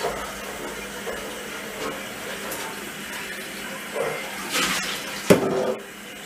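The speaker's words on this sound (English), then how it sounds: "now I want to rinse my jars" Running water from a tap splashing as jars are rinsed beside a home still, a soft continuous flow with brief louder gushes and clinks near the end.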